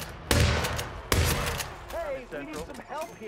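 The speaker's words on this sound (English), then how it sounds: "Eliminate guards with a shotgun." Two loud shotgun blasts fired at guards in Hitman, each a sharp booming report about a second apart, followed by a voice speaking and chirpy in-game sounds.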